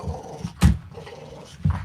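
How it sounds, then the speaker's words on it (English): A dog named Monty growls at a toy, giving low rumbling growls with a couple of sharper bursts, close by. "Doesn't he sound like this big vicious killer attack dog?"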